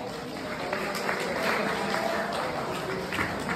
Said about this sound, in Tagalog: Pumalakpak naman po dito sa mga mag-aaral yung natulungan ng aking opisina kahit papano.